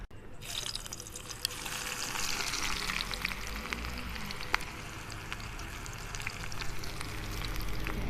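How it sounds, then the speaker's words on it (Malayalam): Coconut oil hitting a hot pan, a steady crackling sizzle with small pops that continues evenly throughout, fairly close. "ഈ ചൂടായ പാനിലേക്ക് കുറച്ച് വെളിച്ചെണ്ണ ഒഴിക്കുകയാണ്"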